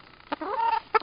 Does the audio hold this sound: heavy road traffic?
no